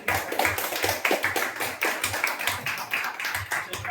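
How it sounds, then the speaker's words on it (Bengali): A group claps hands together at a training course, a dense run of quick overlapping claps that stays close and fairly loud for the whole stretch. "হাততালি দাও।"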